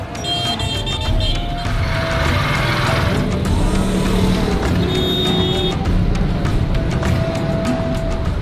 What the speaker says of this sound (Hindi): बीच में बहुत बड़ा ट्रैफिक जैम लगा हुआ है